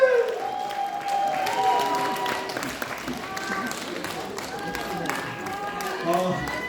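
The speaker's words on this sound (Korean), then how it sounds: "이우영 아이님 모실 때 우리 큰 박수" Audience at a seminar lecture giving a big round of applause for a speaker coming up, many hands clapping steadily with cheering and background music tones running throughout.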